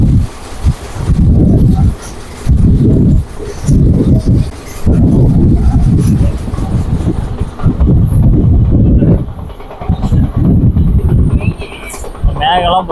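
A train heard from on board rumbles in loud, surging bursts with short quieter gaps, a rough continuous clatter close around the listener.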